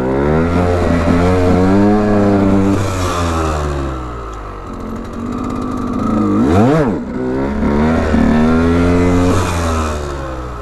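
A KTM EXC 125 dirt bike engine revs hard during wheelie training, its pitch repeatedly climbing and falling, with a sharp drop and quick rise midway, loud and close throughout.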